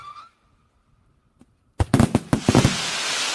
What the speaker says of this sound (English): Look at that, just splashes of color, like daytime freaking fireworks.